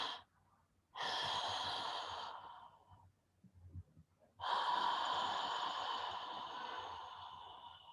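Slow, deep breaths, audible and close, come in two long airy draws separated by a quiet gap, with soft sighing at the ends and no talk.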